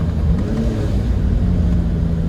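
A 1991 BMW M5 engine pulls steadily in second gear, a loud, close, continuous rumbling drone with no talk over it.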